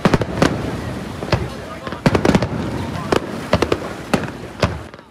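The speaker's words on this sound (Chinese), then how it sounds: "绚丽烟火划破一晚星空" Fireworks over the harbour at the Keelung Ghost Festival water lantern release, a series of loud sharp bangs in irregular clusters over a crowd murmur, with a voice speaking.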